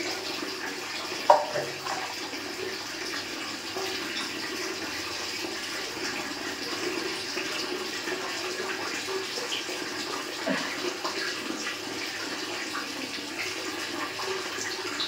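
A bathroom tap runs steadily while someone washes their face, a constant hissing wash of water throughout with one brief knock near the start and faint background rustle, fairly quiet and unbroken.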